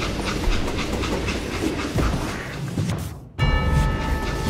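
A steam train running in the Western game Call of Juarez: Gunslinger, loud rhythmic clickety-clack of wheels over rails with rumbling and hissing, briefly cut near the end before the roar resumes.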